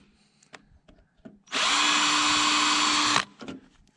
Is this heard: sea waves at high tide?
no